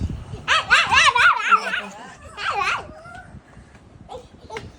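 A puppy gives a burst of high, yappy barks and whimpering yips, close by, then a brief pause and a few more yelps fading into quieter whines.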